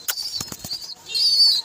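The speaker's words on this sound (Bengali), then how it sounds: "দেখেন এ হচ্ছে কবুতর" Pigeon flapping its wings in close, rapid bursts of wingbeats, followed by a brighter rustling flutter near the end, with no voices.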